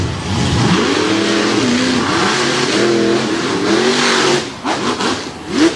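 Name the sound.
monster trucks accelerating off the start line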